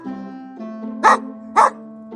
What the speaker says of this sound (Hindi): अचानक बाहर से शेरू के जोर जोर से भौंकने की आवाज आई।